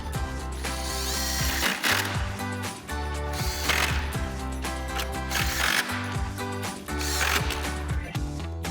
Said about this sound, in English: we'll come back and reinstall our 4 10mm screws.